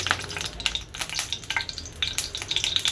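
Fish sizzles and spits in a kadai, crackling continuously and close-up with irregular bursts of hot-oil popping.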